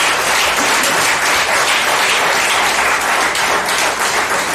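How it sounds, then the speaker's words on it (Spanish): A church congregation bursts into loud, dense applause in praise during a Spanish-language sermon, the clapping holding steady and unbroken from start to finish. "dale un aplauso a la bendita gloria de Jehová"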